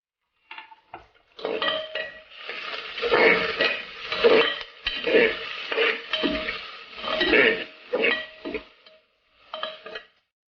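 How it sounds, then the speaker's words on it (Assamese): Cashews and raisins fry in a pan while a metal spoon stirs and scrapes against it, giving repeated clattering strokes over a soft sizzle, close and irregular. "আৰু ইয়াতে মই কাজুখিনিও দি দিলোঁ আৰু খিচমিচ দি দিছোঁ, চব একেলগে এতিয়া ভাজি থাকিম"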